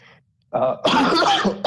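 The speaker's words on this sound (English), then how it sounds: "I'm like battling a cough here." A couple of harsh, throaty coughs close by, the first short and the second longer and rougher, after a brief silence.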